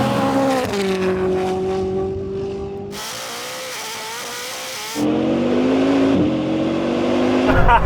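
A Koenigsegg Jesko Absolut and a Bugatti Chiron Super Sport drag race, their engines roaring and revving hard through gear changes, loud and sustained with a steady engine drone throughout.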